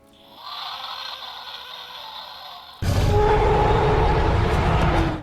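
A Hasbro Jurassic Park III Re-Ak A-Tak Spinosaurus toy figure gives an electronic roar: a faint hiss, then a sudden loud, harsh, distorted burst of noise from a small speaker, close up with no talking.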